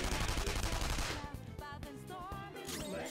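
Rapid gunfire from a gun in the video game Persona 5, a dense burst of loud shots followed by sharp game sound effects and music, with no talk.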